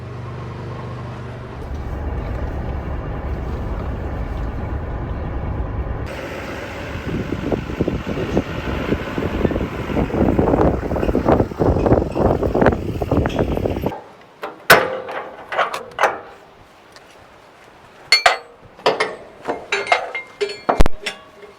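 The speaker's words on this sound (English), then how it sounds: "the wind is going to make things difficult today" Strong wind blowing outdoors on rural land near brush piles, a loud rushing buffet that surges and gusts against the microphone, then gives way to sharp irregular bursts of wind knocks.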